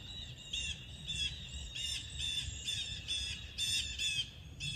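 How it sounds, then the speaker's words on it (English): A flock of birds squawks and caws outdoors in a quick, repeated series of harsh calls over a constant low background rumble. "I have a big flock of birds moving in"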